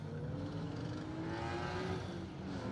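A rally car engine with a suspected manifold or air intake fault runs loud and steady at a Protyre Circuit Rally Championship stage, droning with a rough, uneven tone and no voices over it.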